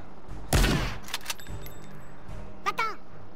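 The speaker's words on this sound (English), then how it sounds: "I'll just settle for the shotgun shots" A shotgun fires in the Worms W.M.D video game, with one loud blast followed by a sharp echoing report. Lighter in-game clicks and short chirpy effects come after it.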